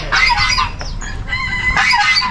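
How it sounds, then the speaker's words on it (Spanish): Hens clucking at a grape-themed national park farm in La Unión, Valle del Cauca, with repeated clucks and squawks in bursts, fairly near and loud, no talking. "Gallina hen se llama esta."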